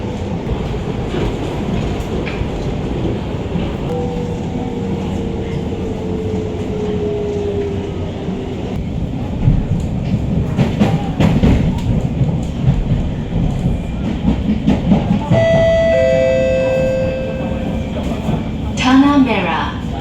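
Singapore MRT R151 train on the East-West line between Tanah Merah and Changi Airport, a steady loud rumble of wheels and motors throughout, with rising whine tones near the end.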